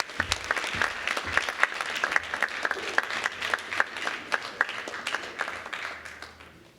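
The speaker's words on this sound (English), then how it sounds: "Another round of applause." Sustained applause from an audience at a Black History Wall of Excellence ceremony in Long Beach, many hands clapping in a steady, lively patter throughout, fading slightly at the end, with no talking.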